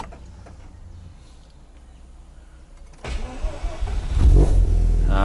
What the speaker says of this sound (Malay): saya nak belanja start engine